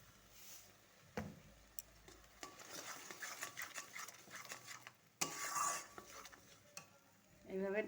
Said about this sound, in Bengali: এইভাবে একটু নাড়াচাড়া করে নেব